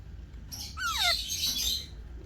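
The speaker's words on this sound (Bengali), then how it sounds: "এখানে কিন্তু চন্দনা পাখির বাচ্চা দেখা যাচ্ছে" Alexandrine parakeet chicks, original Pakistani stock, give a short burst of squawky, chirping calls close by, with rising and falling notes packed into about a second, then a faint background.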